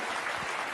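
An audience applauds Miss Ava at a summit event, a short, dense burst of steady clapping with no voices over it.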